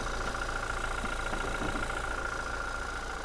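Toyota Revo four-door pickup with a 2.4-litre diesel engine idling, a steady low rumble with an even mechanical hum, close and constant throughout with no talk.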